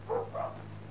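Two quick dog barks ring out close by in a rural setting from a 1975 Turkish film, each short and sharp, followed by quiet.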